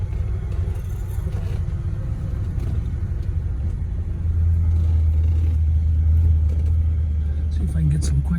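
A 1967 Pontiac GTO engine rumbles while driving and then swells into a louder, deeper steady roar under acceleration, with a voice talking over it.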